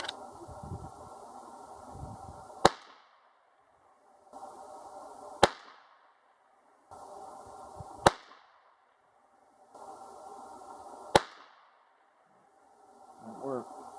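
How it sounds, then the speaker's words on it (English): Four sharp, loud rifle shots from a Mossberg International 817 firing CCI VMAX 17 grain 17 HMR rounds ring out at regular intervals outdoors, each following a stretch of quiet background noise. "I'm shooting the CCI VMAX 17 grain at"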